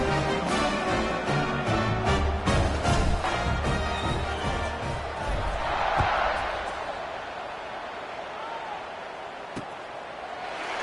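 Stadium crowd noise at a college football kickoff in the NCAA 26 video game, a loud roaring crowd with thumping impacts early that gradually settles into a softer steady murmur.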